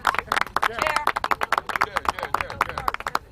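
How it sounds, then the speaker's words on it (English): A group of scouts at a survival training weekend clapping and cheering, uneven bursts of claps mixed with shouting and voices, loud and close. "Big round of applause for these guys."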